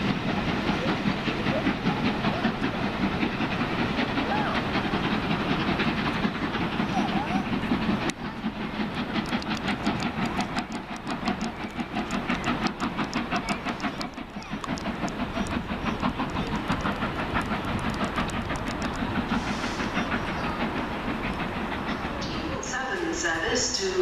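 A Southern passenger train rumbles and clatters past a station platform at close range, a long, loud rolling roar with hissing and rhythmic wheel noise that eases slightly midway.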